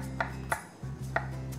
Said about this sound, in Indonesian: Kita ini potong kasar-kasar aja gitu.